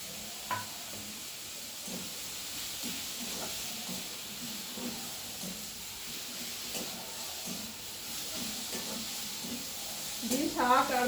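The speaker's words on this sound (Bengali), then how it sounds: "শাক আর বড়ি আমি খুব ভালোভাবে নেড়ে চেড়ে মিশিয়ে নিচ্ছি।" Red amaranth greens with fried lentil dumplings being stirred in a pan, a soft steady sizzle and hiss running under scattered scraping stirs, with a brief louder clatter near the end.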